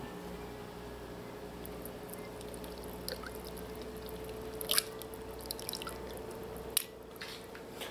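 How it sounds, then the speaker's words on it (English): Homemade eggnog being strained: quiet, close dripping and light liquid trickling over a faint steady background, with a few sharper drops and splashes scattered through. "All I need to do now is strain this."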